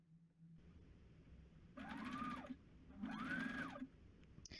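Sewing machine stitching the bottom edge of a dress sleeve at a 3/8 to 1/2 inch seam allowance, running in two distinct bursts of steady mechanical whirring with a short pause between, close and moderately loud.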